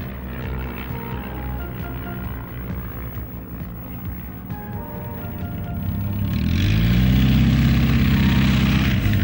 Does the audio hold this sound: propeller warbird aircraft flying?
yes